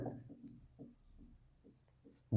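Marker or pen scratching out short strokes on a board or paper during a Hindi-language maths lesson, soft intermittent scrapes with quiet pauses, ending in a louder knock.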